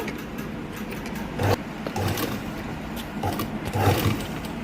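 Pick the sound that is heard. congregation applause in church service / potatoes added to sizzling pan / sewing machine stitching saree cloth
sewing machine stitching saree cloth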